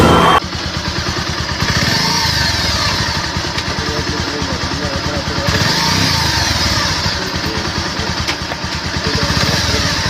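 A motorcycle engine runs steadily throughout, close and loud, with revs swelling around two and six seconds while a prospective buyer checks the bike; voices are faintly present under the engine.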